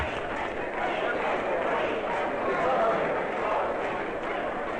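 A packed election night hall roars with steady crowd din, a continuous wash of overlapping voices and commotion that stays loud and even throughout.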